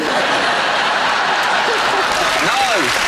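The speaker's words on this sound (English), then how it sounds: "Don't applaud that" Studio audience at a Christmas panel comedy show breaks into applause, a broad continuous clatter of clapping with some chuckling and a voice rising over it near the end.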